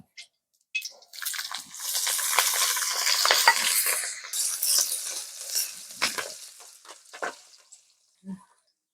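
Frying in oil for a fried rice and chicken dish: after a brief quiet start, a close sizzle with stirring scrapes and crackles swells, then breaks into scattered bursts that fade out near the end.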